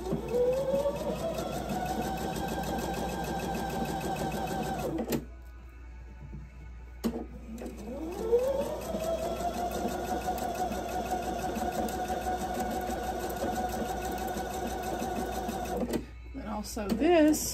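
A sewing machine stitches a calico pumpkin quilt block, its motor whirring in a steady hum for several seconds, pausing briefly, then running again for a long stretch, close and clear.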